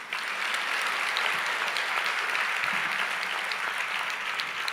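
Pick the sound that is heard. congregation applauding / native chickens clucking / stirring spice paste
congregation applauding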